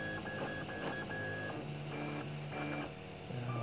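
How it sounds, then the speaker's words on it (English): A Prusa-clone 3D printer runs a print job: its stepper motors whine and buzz steadily, with tones shifting every second or so as the head changes moves. The sound is close and continuous, and nobody speaks. "since you've seen many printing jobs, this is my printer"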